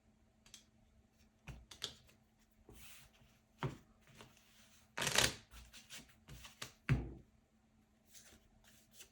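Playing cards for the Harry Potter Hogwarts Battle deck-building board game being shuffled at a table, a series of quick riffling and slapping bursts, the loudest near the middle, close and clear with no talking.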